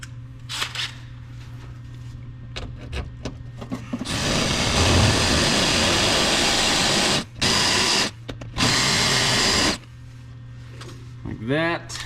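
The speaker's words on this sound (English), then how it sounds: "So that's a spot weld cutter." Spot weld cutter, a small hole-saw-like bit, drilling through the rusty floor panel of a 1983 Ford Capri RS in two loud sustained grinding bursts with a brief pause between them, with someone talking before and after.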